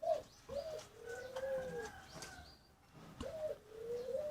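Spotted dove giving a rhythmic cooing call, two bursts of soft, repeated coos, fairly close and clear against a quiet outdoor background.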